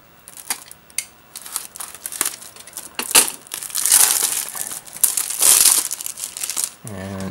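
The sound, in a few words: removing plastic seal from Xbox One game case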